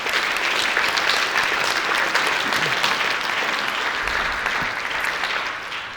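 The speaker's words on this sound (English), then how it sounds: "Let's give him another round of applause." Sustained applause from an audience at the ISA 2022 Impact Awards ceremony for a soybean association honoree, many hands clapping steadily and densely for the full stretch before tapering slightly at the end, with no talk over it.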